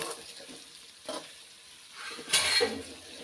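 Carrots and beans sauté in a pan for millet pongal, a soft sizzle with a few stirring scrapes and one louder clatter near the end, quiet and close.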